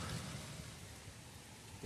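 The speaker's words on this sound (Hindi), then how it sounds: "बारिश होना चालू हो गया है" Heavy rain begins pouring outdoors under dark, fast-moving clouds, a dense steady hiss of drops with a low rumble beneath, continuous and fairly loud with no talking.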